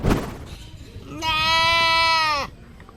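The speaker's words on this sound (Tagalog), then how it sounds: "Tila nagsusumbong naman ang kambing na ito habang iika-ika sa paglakad" An injured goat limping with traces of blood gives one long, loud, wavering bleat close by, after a brief stretch of noisy background.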